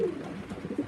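Stock pigeons in a loft give a short, soft, low cooing burst, heard close and alone.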